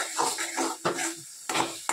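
Bottle gourd peel frying in a pan, with a few loud scraping, clattering bursts as it is stirred over a soft sizzle.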